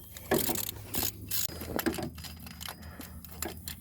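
Bolts go in during a timing belt, tensioner and idler pulley job on a Chevrolet Sonic LT 1.8 engine, giving quiet metallic clinks, jingles and scraping taps at irregular intervals, close and fairly soft.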